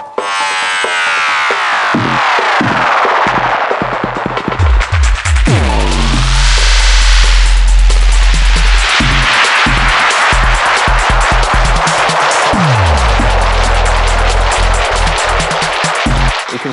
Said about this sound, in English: So the spiral is like a tape delay that's gone bananas,